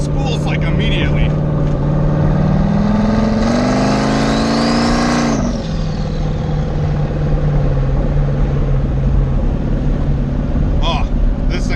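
A turbocharged LS-swapped Fox Body Mustang on 26-inch drag slicks accelerates hard, its engine note climbing with a rising turbo spool whine for a couple of seconds before easing off, with a steady drone and talk throughout.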